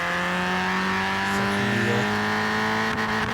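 A 1983 MK1 Golf GTI with 112 horsepower in Forza Horizon 4, its engine droning loudly and steadily, with a slight change in pitch partway through as it pulls through the gears.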